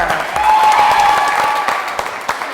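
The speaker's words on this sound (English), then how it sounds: "Keep clapping, keep clapping." A large audience at a motivational talk claps continuously and loudly, a thick, sustained wash of hands that swells slightly in the middle and never pauses, with a few sharper individual claps standing out.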